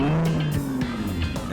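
A Nissan GTR, shown alongside an R32, drives past with a steady engine drone and a sliding engine note, like tyres working on the road, heard close and alone.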